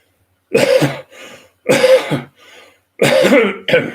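Three harsh, close coughs in a row, each followed by a short wheezy intake of breath.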